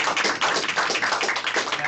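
Dense, continuous clapping from a lecture audience thanking a speaker after an academic talk, a brief steady burst of many hands close by.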